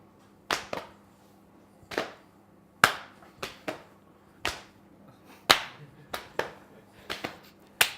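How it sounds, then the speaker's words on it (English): Sharp hand claps from people playing a mirroring game, scattered irregularly as single claps and quick pairs, close and fairly loud, with brief gaps of quiet between them and a faint low hum underneath. "as soon as we mirror, we're supposed to clap"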